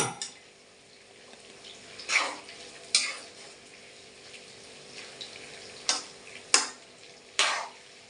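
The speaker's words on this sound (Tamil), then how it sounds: "சரி போட்டிருக்கேன்னா எதையும் கிண்டிகிட்டே இருக்கணும் இல்லையா லைட்டாக கிண்டிடுவோமா" A spoon scrapes and stirs jackfruit chips frying in a pan, giving sharp scraping strokes at irregular intervals over a soft, steady sizzle.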